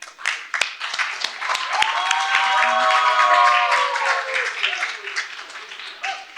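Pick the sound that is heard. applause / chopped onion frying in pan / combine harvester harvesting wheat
applause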